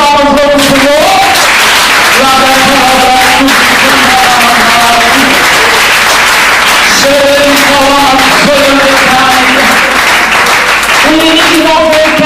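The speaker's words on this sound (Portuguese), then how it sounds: "As palmas para o Senhor." A church congregation applauds and claps continuously for many seconds, loud and close, mixed with voices and sustained singing or shouting over the clapping.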